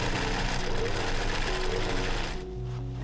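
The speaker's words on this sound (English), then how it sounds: "Once all the pattern pieces are prepared, it's time to sew the mockup." A sewing machine stitching a dress mockup runs with a steady, loud, rapid mechanical whir and knock, slowing and easing off near the end.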